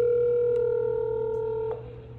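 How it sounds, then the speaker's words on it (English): A phone calling out produces a steady electronic tone that holds, then cuts off abruptly, leaving a quiet low hum. "let me go ahead and call my brother and see what he's doing"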